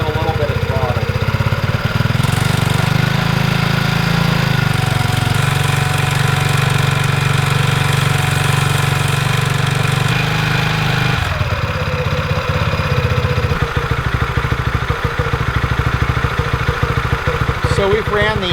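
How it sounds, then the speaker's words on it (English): BlackHawk paramotor engine on a LowBoy III Quad frame with Aero 1000 setup, roaring loudly and steadily nearby as throttle is applied, its pitch shifting about midway as the revs change. "So we've ran the engine for a couple of minutes."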